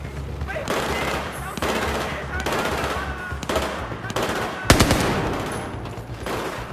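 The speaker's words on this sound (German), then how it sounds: "Ihr schießt auf jemanden, der bereits tot ist." Battlefield 4 gunfire in a busy firefight: sustained automatic bursts roll through the whole stretch, with a sharp loud shot near the end, over game ambience and faint voices.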